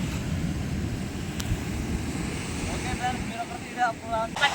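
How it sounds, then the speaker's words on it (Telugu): Cool wind blowing across a bridge over the sea, a steady low rumble of wind buffeting the microphone throughout, with faint voices near the end. "చూడండి చాలా అంటే చాలా బాగా చల్లటి గాలి"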